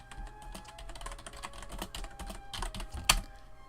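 Computer keyboard typing during Goosebumps HorrorTown gameplay: a steady run of quick, close clicks with uneven rhythm and one sharper key strike near the end, no voices.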